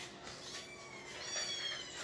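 A domestic cat meows softly in a quiet indoor room, a couple of faint, thin cries rising over low background hiss.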